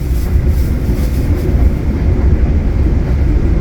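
Inside a moving Majapahit economy new-generation stainless steel passenger train, a loud continuous low rumble and rolling wheel noise fills the cabin with no talk.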